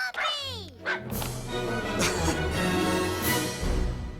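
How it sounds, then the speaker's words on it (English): A puppy gives high, wavering whimpers and a few short yips at the start, then a sustained mix of sound fills the rest at moderate loudness. "Wow, a puppy!"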